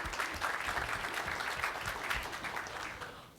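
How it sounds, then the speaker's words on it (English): Applause from a large conference audience of around 900 attendees fills the room, dense and steady clapping that holds loud throughout before beginning to fade at the very end. "So a massive round of applause for everybody who's attended today."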